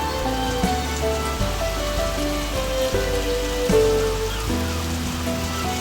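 Rain falls steadily on a surface, a dense, continuous patter close by with a few heavier drips and drops standing out, no voices.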